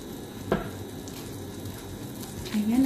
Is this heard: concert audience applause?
no